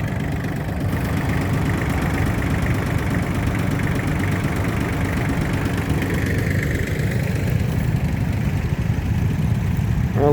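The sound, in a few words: Kubota tractor engine running at plough day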